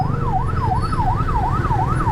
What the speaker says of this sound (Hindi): जैसे सामने एम्बुलेंस जा रही है 1122 की और बड़ी मुश्किलात का सामना है उसे